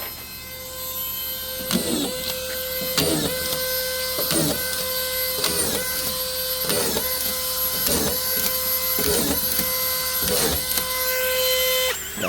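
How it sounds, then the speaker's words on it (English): Screws being driven into a wooden fence with a power tool outdoors: repeated short bursts about once a second over a steady mechanical whine, close and fairly loud, with no talking. "we're gonna stick a few screws in here, see what happens"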